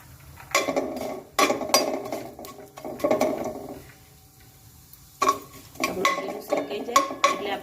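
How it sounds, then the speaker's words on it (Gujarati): Cumin seeds roast in a dry pan for mint-coriander chutney, heard as bursts of metallic scraping and clinking from a spoon against the pan, close and intermittent with a quiet pause in the middle. "એટલે મેં આ રીતના જીરું શેકી લઉં છું પહેલા"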